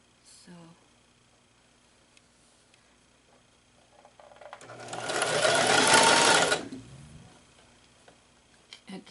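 A sewing machine runs a zigzag stitch through skirt fabric in one steady, loud burst of a couple of seconds, with quiet handling before and after and a brief voice at the start.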